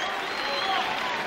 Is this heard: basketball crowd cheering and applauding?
yes